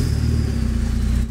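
A Porsche's engine runs at a steady, close, low rumble as the car is moved a short way in the rain, with no talk over it.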